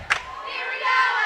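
A crowd of fans at a girls' high school water polo match cheers and shouts, with a sharp cry at the start and then a sustained, rising roar of voices.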